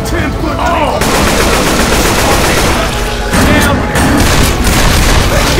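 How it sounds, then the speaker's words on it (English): Explosive rounds fired in Left 4 Dead 2, a zombie shooter game: loud, dense rapid gunfire with booming blasts, continuous and close, with a short break partway through. "Deploying explosive rounds."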